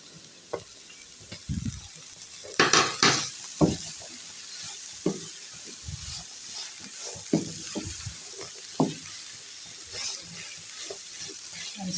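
Boiled cabbage and peas are stirred with other vegetables in a pan, a soft sizzle under scattered scraping clicks and knocks of the spoon in an irregular rhythm, close and moderately quiet.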